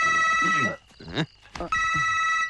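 A telephone rings with a bright, electronic ringtone before and after a short pause, while someone speaks briefly in between.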